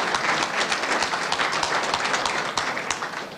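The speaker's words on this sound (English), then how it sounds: "I think the applause was so deafening they might not have heard it" Loud, sustained audience applause at the 1985 BRL Rothmans Medal presentation, a dense wash of clapping from a large crowd filling the room.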